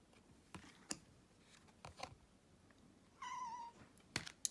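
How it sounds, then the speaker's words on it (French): A single cat meows once, close and clear, amid quiet scattered clicks and taps in a hushed room. "ça c'est mon chat qui veut sortir"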